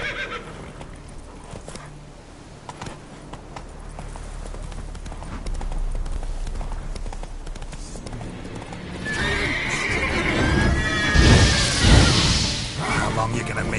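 Horse hooves from The Witcher 3 clip-clop in a steady rhythm that builds to a louder gallop, with a loud neigh near the end and other game sounds underneath.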